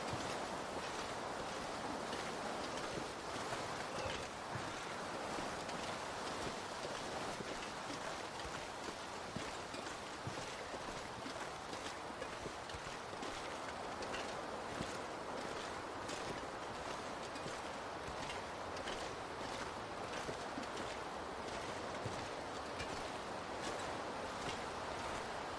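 Wind blowing across open terrain in The Long Dark survival game, a constant broad roaring whoosh with faint gusting pulses, steady and unbroken throughout with no voices.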